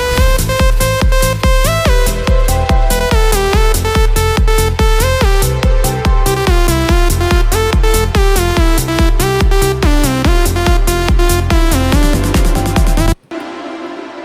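Drop section of an electronic track: loud electronic dance music with a pounding steady beat, pulsing bass and bright repeating synth lead, cutting off abruptly near the end.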